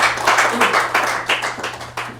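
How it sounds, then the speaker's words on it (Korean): A lecture audience at a history forum applauds: a short burst of many hands clapping close by, with uneven rhythmic peaks. "우리와 같은 박수 부탁드립니다."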